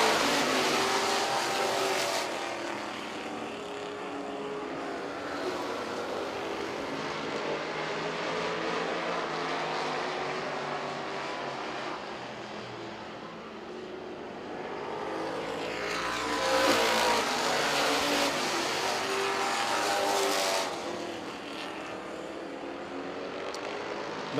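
Race cars roaring around a track, engines rising and falling as the pack passes by, loud and continuous with waves of approaching and receding engine noise.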